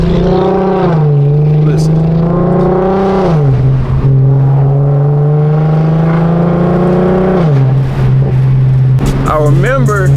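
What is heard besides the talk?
Infiniti Q50 exhaust revving, sounding like gunshots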